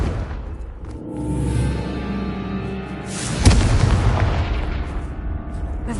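A Confringo fire spell from the Hogwarts Legacy video game fires with a whooshing cast, then a sharp, loud explosive boom about midway that tails off into crackling, rumbling debris, close and game-mixed.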